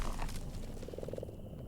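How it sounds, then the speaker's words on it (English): Frog croaking in the video game Mortal Shell, a rhythmic series of croaks rising from a dense, noisy ambient background, fairly close and unaccompanied by speech. "there's a frog over there"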